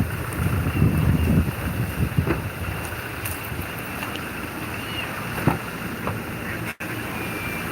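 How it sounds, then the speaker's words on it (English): Wind gusts buffet the microphone at a coastal spot in Infanta, Philippines, a loud rumbling wash strongest in the first couple of seconds, then settling into steady blustery noise. "It is a little windy."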